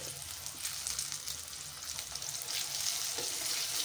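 Spice powder for vangibath fries in hot oil, a soft continuous hiss and crackle at close range with faint stirring underneath, no one speaking.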